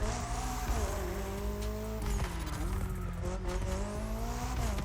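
McLaren P1 Gold Line Edition hypercar racing on a technical track in The Crew Motorfest, its engine droning loud and steady with rising and falling pitch, tire squeal and skidding throughout.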